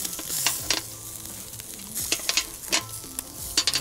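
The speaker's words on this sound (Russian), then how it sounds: "все равномерно у нас жарится" Shashlik meat skewers sizzle over a grill, with crackling fat pops and short bursts of stirring or handling noise, close and clear with no talk.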